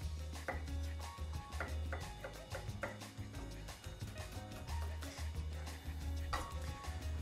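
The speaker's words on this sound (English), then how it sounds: "Going to chop 2 garlic cloves." Two garlic cloves are chopped with quick, repeated knife taps on a cutting board in a steady close rhythm, alone and moderately loud over a low hum.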